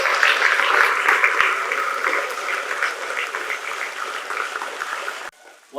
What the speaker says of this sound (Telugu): ఒకసారి చప్పట్లతో స్వాగతం పలుకుతాం,